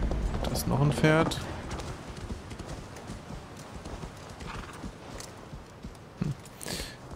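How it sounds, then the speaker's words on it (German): Horse hooves clip-clop in the video game Assassin's Creed Valhalla, a rapid run of hoofbeats with a whinny near the start, fairly close, under someone talking. "Da ist noch ein Pferd."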